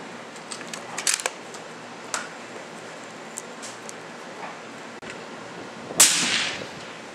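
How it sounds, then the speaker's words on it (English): A single sharp rifle shot at a 100-yard range cracks loudly and decays quickly, preceded by a few faint clicks and rustles in quiet outdoor air. "And I'll shoot my last shot."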